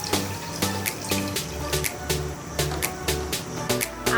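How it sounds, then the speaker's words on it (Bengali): Water poured into a pot of cholar dal (Bengali chana dal) as it cooks, a steady close splashing and trickling over clinks and light kitchen noise, no talk. "এখানে পরিমাণ মতন জল অ্যাড করছি আমি"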